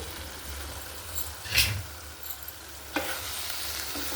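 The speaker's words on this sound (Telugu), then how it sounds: "నేను మధ్య మధ్యలో మూత తీసి కలుపుతూ ఉండాలండి" Dry fish, cucumber and tomato curry stirred in a frying pan, a gentle sizzle throughout with two distinct scraping strokes of the spoon against the pan.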